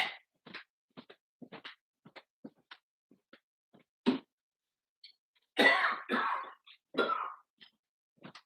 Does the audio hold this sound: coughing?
yes